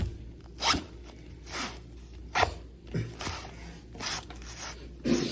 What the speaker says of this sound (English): let's get it unzipped and opened up